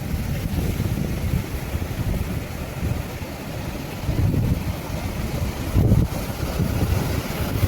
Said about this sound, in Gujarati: કેવા મોજા ઉછળે છે